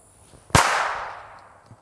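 A single sharp gunshot from a P380 pistol fired from inside a pocket, one loud crack near the middle with a fading ring-out, otherwise quiet.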